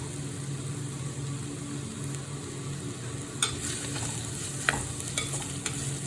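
Ginger garlic paste and green chillies fry in a pan for a squid roast, a soft, steady sizzle broken by a few sharp clicks and scrapes of stirring toward the end.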